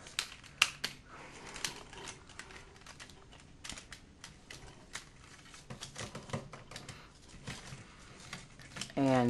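Plastic clicks, snaps and faint rattles come from a Transformers Beast Wars 10th Anniversary Megatron toy figure as its parts are turned and folded, quiet and irregular.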